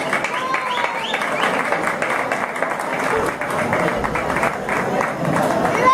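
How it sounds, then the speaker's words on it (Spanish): A crowd at a marathon event in Yaurel, Arroyo, Puerto Rico claps loudly and continuously, with voices and cheers mixed into the dense, sustained applause. "Le pido un fuerte aplauso."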